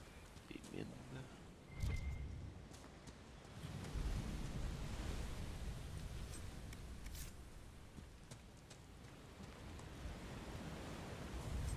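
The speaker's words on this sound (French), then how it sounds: "Les vagues sont vraiment très belles aussi." Waves rolling onto a gloomy storm-swept shore in a video game, a steady broadband wash that swells and recedes over nearly twelve seconds, fairly faint, with a brief louder surge early on and no talking.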